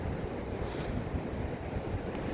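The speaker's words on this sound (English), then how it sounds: "today I am at Ocean Shores, Washington, on the beach with my sister" Ocean surf and gusting wind on the beach at Ocean Shores, Washington, a dense continuous wash with wind buffeting the microphone, loud and close, no voices.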